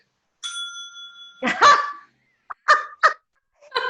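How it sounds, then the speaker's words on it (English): A bell rings once with a clear sustained tone, followed by several short, sharp bursts of sound, signalling that a speaker's time is up on a talk show. "you will hear the ring bell"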